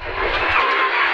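Renault Clio Rally5 rally car accelerating hard on a race stage, a loud, close, steady engine roar held for about a second.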